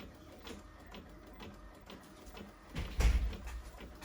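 An Epson XP-325 inkjet printer feeds and prints on cardstock with soft, repeated mechanical whirring and ticking, ending in a louder clunk near the close, with no talking.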